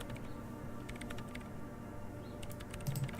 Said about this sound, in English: her hands typing hundreds of commands into the machine